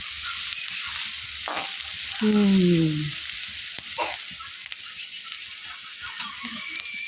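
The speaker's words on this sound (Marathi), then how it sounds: "अश्विनी भाजी बनवतीये कसली भाजी अश्विनी वालाची भाजी" Val bean vegetable curry frying in oil in a village kitchen: a soft, steady sizzle with a few stirring scrapes and a brief louder squeal partway through, heard near and fairly quiet.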